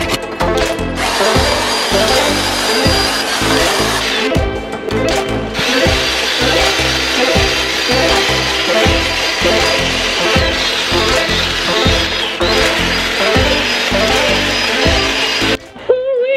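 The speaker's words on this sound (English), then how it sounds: "especially when using the wire wheel" A wire wheel on a power tool whines loudly against the frame rail of a barn-find Plymouth Cuda, with a steady grinding roar broken by short pauses and shifts in pitch as it scrubs the metal.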